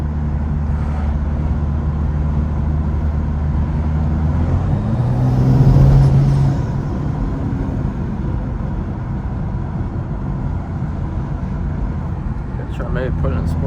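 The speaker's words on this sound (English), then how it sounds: "so we just gotta warm up the car" A Stage 2 tuned BMW 435i warms up, idling with a low steady rumble, briefly revving louder partway through, then settling back to a steady hum.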